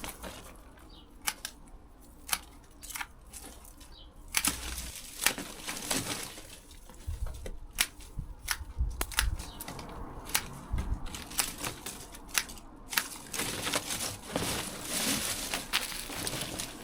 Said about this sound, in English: It's quite therapeutic snipping away too.